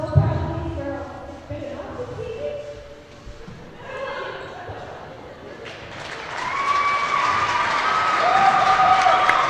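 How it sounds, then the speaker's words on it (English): Players clapping for Cole Valley Christian after a girls basketball third-place game, applause swelling in a gym with crowd noise, following a stretch where people talk. "Cole Valley getting a nod and some claps from their team"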